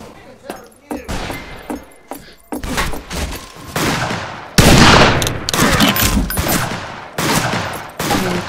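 Rifle shots and bursts of gunfire ring out in a Wild West video game, sharp repeated cracks at irregular intervals, some isolated and some in rapid clusters, loud and close.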